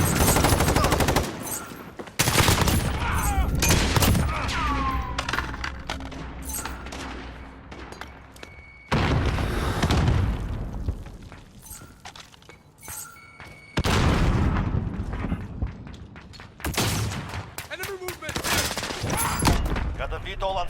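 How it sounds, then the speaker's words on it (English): A precision airstrike in Modern Warfare brings loud, dense bursts of rapid gunfire and heavy booms in several separate barrages, with quieter gaps between them. "Precision airstrike,"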